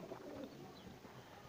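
Pigeons coo softly in a loft after feeding on corn, low and faint against a steady background hiss with no talking.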